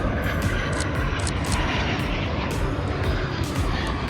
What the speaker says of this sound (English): we've got a nice little plane coming in